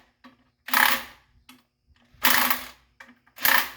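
Impact wrench working on a broken-down track tamper, three sharp separate bursts of hammering rattle with quiet gaps between them, close and fairly loud.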